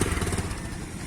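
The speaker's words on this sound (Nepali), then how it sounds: "उहाँको बाइकको चाहिँ यो 220 हो" A 220 motorcycle engine runs close by with a loud, rough, throbbing chug that stays steady through a brief moment.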